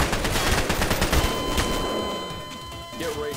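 Rapid bursts of booming game cannon fire, loud and clustered in quick succession, fading out near the end.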